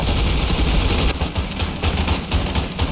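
Rapid machine gun fire across WWI trench warfare in the Ravenfield video game, a dense continuous rattle of shots with scattered distant gunfire and occasional booms, loud and steady with no talking.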